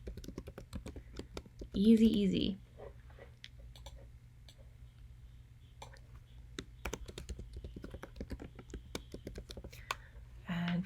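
Computer keyboard typing while a document is edited, a run of quiet, close key clicks with a brief louder burst near the start, and a person speaking briefly over it.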